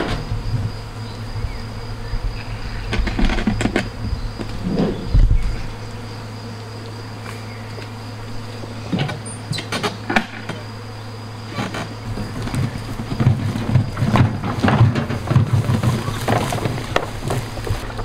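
Honeybees drone and buzz around an emptied hive outdoors, a loud, steady swarm hum with individual bees zipping close past the microphone, plus occasional knocks and handling sounds.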